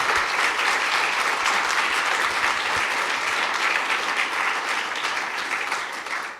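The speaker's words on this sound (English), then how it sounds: "maybe if everyone could just give them a clap" Audience applause for panellists at a Techweek space-industry event in New Zealand: dense, steady clapping from a sizeable crowd that holds strong for about six seconds, then begins tapering off near the end.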